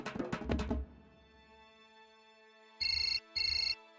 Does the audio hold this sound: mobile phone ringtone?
yes